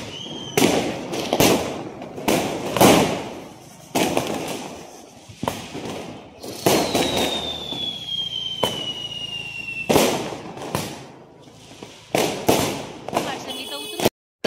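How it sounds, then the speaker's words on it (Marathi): Diwali firecrackers bursting around a home during Lakshmi Puja celebrations, a series of sharp loud bangs at irregular intervals, some close and some farther off, with a whistling rocket streaking up in the middle. "बघा सगळे फटाके वाजवता इथे."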